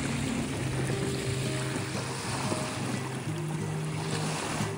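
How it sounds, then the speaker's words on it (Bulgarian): Steady waves wash against the shore of Bulgaria's largest reservoir, heard up close as a continuous, even rush of water with a light wind buffeting the microphone. No one speaks. "Събудихме се без аларма от прекрасните звуци на вълните."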